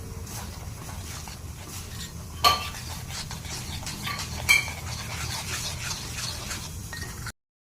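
Sifted flour, cocoa powder and wheat flour are stirred together in a bowl, giving soft continuous scraping and mixing noise with a couple of brief clinks of a utensil against the bowl's rim.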